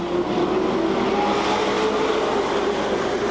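Sportsman stock cars race at Seekonk Speedway, a steady, loud engine roar with a sustained droning tone that holds throughout, without talk.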